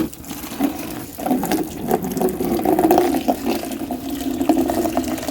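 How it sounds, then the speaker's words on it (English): Water pours steadily for a dog, a continuous liquid splash and trickle that runs close and moderately loud for several seconds with no talking. "Let's give Canelo some water."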